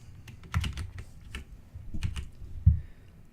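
Keyboard typing in short bursts of clicky keystrokes, close and fairly quiet, with pauses between runs and no one talking.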